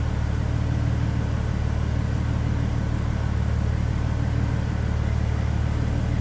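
A Mercedes SLK32 AMG engine fitted with a Hellcat throttle body idles with a constant low, throaty rumble, steady and close, with no talking.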